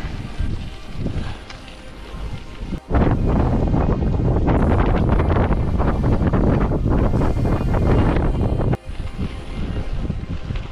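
Wind blowing steadily and loudly during a hike in the Sierra Nevada mountains, with heavy gusting buffeting the microphone across most of the stretch and a brief drop before it settles back to a lighter rush.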